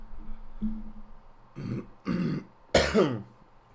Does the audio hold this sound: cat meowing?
no